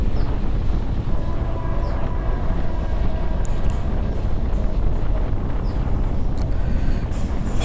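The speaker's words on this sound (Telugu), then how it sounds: "ఇది స్పెషల్ ట్రైన్." A passenger train made up of ICF coaches runs along the line with a steady, loud rolling rumble and rushing noise that carries on without a break.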